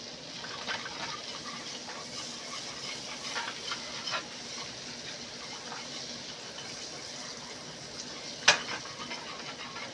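Crushed black peppercorns being whisked into a sizzling pan sauce for steak: a steady, close bed of hiss and bubbling with faint stirring scrapes and a single sharp click near the end.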